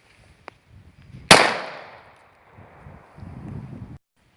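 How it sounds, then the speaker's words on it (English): A single sharp .45 ACP pistol shot strikes a target block, a loud crack with a decaying outdoor tail, followed by low wind rumble. "So now we'll shoot the rest of it with the 45."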